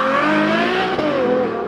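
A car engine roars loudly as it passes at close range, with a steady high-pitched drone that dips in pitch partway through, during a Ferrari Cavalcade owners' rally in Italy.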